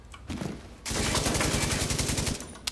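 Automatic gunfire rings out in the video game The Division 2, a loud sustained burst of rapid shots lasting a couple of seconds after a brief quieter lead-in, with no voices.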